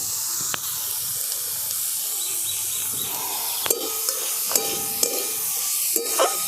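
Mashed chhana being stirred into fried vegetables in a pan for an oil-free snack, with a steady soft sizzle and hiss under scraping spatula strokes that sharpen into several distinct clinks and scrapes toward the end.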